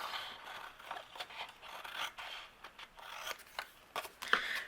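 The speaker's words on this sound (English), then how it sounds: "I'm going to trim this away here." Scissors trimming a sheet of photo paper during paper crafting, heard as soft, quiet snips and papery scrapes that come in short, irregular bursts up close, with no talking.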